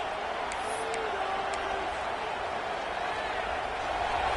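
Home crowd roaring at an NCAA college football game as the defense faces third down, a steady, dense wash of cheering that holds for the whole stretch.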